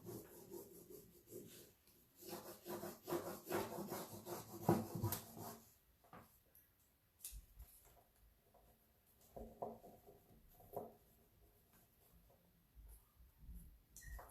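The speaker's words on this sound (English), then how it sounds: "just carefully making sure you get every single part of it, rubbing it all on." Dry rubbing and light scratching as a transfer is pressed onto decoupage tissue paper, a soft steady rasp that is busiest early on and then thins to sparse quiet strokes.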